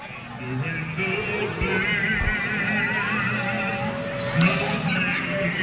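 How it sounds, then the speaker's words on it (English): Out on a Christmas parade route, a horse gives a long, wavering whinny that rises and falls over several seconds, heard at moderate distance amid crowd noise and a few hoof knocks. "They brought a horse along with them."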